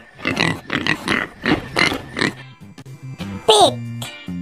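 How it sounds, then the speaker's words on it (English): Pig grunting and oinking in a short burst of several snorty squeals, close and clear, following a voice speaking. "Pig."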